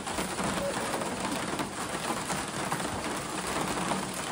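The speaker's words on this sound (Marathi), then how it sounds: "ते बघा किती पाऊस येऊन आला जोरात." Heavy rain falling outdoors, a dense, even hiss of drops on surfaces that holds steady and moderately loud throughout.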